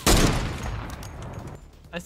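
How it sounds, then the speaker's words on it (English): A single loud sniper rifle shot in Fortnite cracks up close at the start and rings out in a decaying tail, with faint voices murmuring afterward. "we're getting sniped from underneath"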